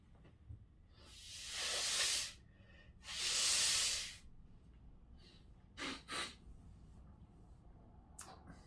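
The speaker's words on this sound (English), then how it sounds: "So just blow your nose quickly." Two long, forceful nose blows rush out close by, followed by a couple of short sniffs and snorts, with quiet breathing in between.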